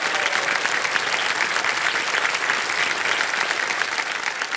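A studio audience on the Indian quiz show Kaun Banega Crorepati applauds a contestant who has just won a cheque, with dense, steady clapping that stays loud and even throughout and carries no talk.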